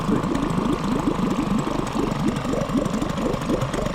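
An outboard boat motor idles slightly high while running warm, giving a steady, continuous mid-pitched engine drone with a low pulsing throb that stays close and even throughout.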